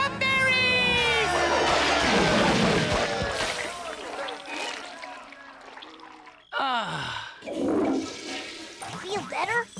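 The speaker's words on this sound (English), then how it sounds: "the sound of flushing calms me down" A cartoon toilet flushes with a loud rushing swirl, then drains away, mixed with exaggerated cartoon sighs and gasps from animated characters.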